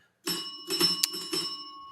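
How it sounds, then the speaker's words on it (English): A short bright chime rings out as a notification bell effect, with sustained tonal ringing and a sharp ding near the middle, alone without talk. "ring that notification bell"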